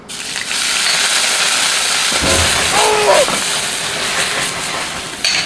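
A loud, steady sizzle of chopped garlic frying in a little hot oil in a non-stick pan, hissing continuously with a brief burst of crackling partway through.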